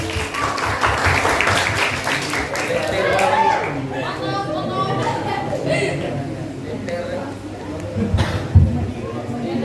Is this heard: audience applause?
yes